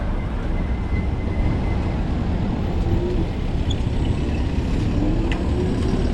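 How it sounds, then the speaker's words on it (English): Road traffic noise while riding through city streets: a continuous, steady low rumble of passing vehicles and wind, loud and unbroken, with no talking. "Oh, traffic."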